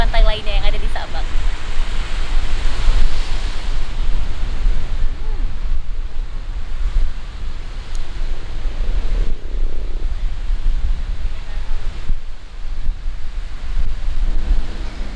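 Sea waves at Pasir Putih beach in Sabang, a loud continuous roar of surf mixed with heavy wind buffeting the microphone, steady and close.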